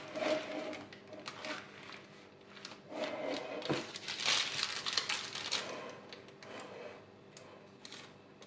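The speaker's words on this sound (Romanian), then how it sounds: "Apoi punem hârtia de copt împreună cu pateurile pe tavă." Baking paper with tuna and zucchini pastries set onto a baking tray, giving close crinkling paper rustles and light taps in irregular bursts over several seconds.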